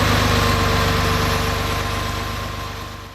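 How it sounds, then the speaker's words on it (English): A Porsche engine with CIS fuel injection idles just after starting, a close, even, rhythmic low-pitched chug with a steady hum that eases slightly toward the end. "our engine started right up, didn't need any throttle"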